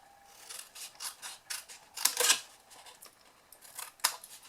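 Scissors snipping paper pieces off a hand cream dome craft box, a quiet close series of about seven or eight crisp cuts at an uneven rhythm.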